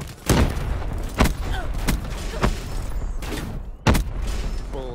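Grenade blasts and gunfire in a Demolition match in a Call of Duty style shooter, with several sharp booming impacts spaced unevenly over a few seconds against a busy battle backdrop.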